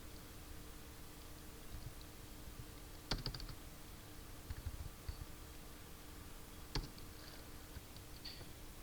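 Keyboard presses for copy and paste shortcuts, Ctrl C and Ctrl V, a few sparse clicks in two short clusters over a steady hiss, with no talk.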